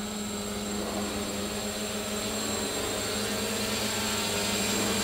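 A plus-size VTOL model aircraft comes in to land, its steady propeller drone loud and close, holding without a break throughout.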